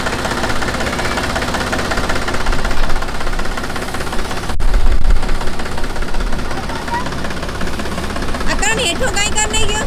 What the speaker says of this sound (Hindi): भाई चला रहे हैं ट्रैक्टर।